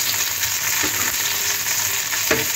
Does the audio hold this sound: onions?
yes